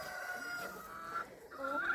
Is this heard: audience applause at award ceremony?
no